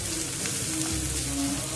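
Macaroni and finely chopped vegetables sauté in a pan, giving a steady, soft sizzle of frying with faint stirring textures throughout, with no talking.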